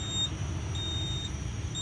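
A home fire alarm system sounds during a pull station test, giving steady high-pitched electronic beeping tones that repeat in a regular pattern over a low background rumble.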